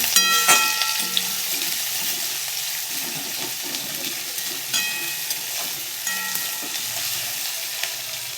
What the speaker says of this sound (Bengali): কুচনো পেঁয়াজটাকে দিয়ে পেঁয়াজটাকে একটু লাল করব